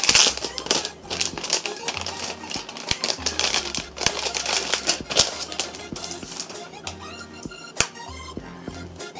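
Keys clatter on a thin metal Apple keyboard from an iMac set, a close, irregular run of crisp taps and clicks with brief pauses, while someone talks over the typing.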